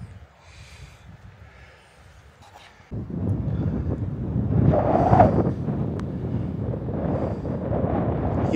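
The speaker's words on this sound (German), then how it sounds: "Hier oben bläst der Wind ganz schön jetzt." Strong wind on a hilltop along a hiking trail in the Rhön, buffeting the microphone: a light breeze at first, then a sudden loud, gusty roar that keeps going, no voices.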